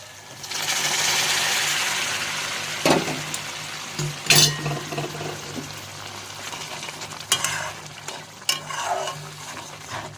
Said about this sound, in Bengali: এবারে এর মধ্যে গরম জল ঢেলে দেবো